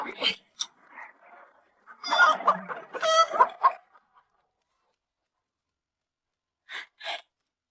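Chickens cluck in short, close bursts, with a louder flurry in the middle and two brief calls near the end, separated by silence.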